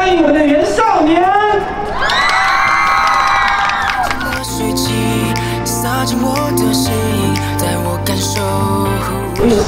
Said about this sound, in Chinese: 我们以热烈掌声欢迎